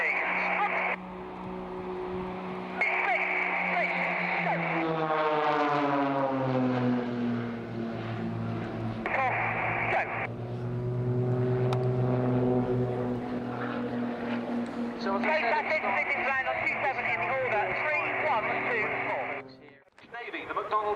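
Blades aerobatic team propeller aircraft at RIAT fly toward the crowd in formation, a loud sustained drone rising and falling in pitch as they pass close, with a commentator talking over it throughout.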